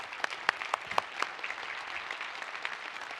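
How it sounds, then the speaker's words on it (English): A conference audience at a security convention claps, with a few sharp individual claps standing out early before settling into a soft, distant patter that continues to the end. "A round of applause for you."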